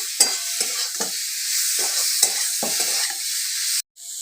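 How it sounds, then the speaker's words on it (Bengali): Potato pieces are stir-fried in a hot pan for a curry, with a continuous sizzle broken by several close, scraping spatula strokes before the sound cuts off abruptly near the end. "আলুটা দিয়ে দিলাম ভালো করে কষে নেব"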